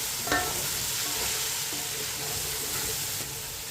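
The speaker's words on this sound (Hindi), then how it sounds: "मिक्स करके 2 मिनट के लिए पका लेंगे।" Beef pulao cooks in a pot over a lowered flame, a constant close sizzle and hiss with soft stirring scrapes and light knocks of a spoon running through it.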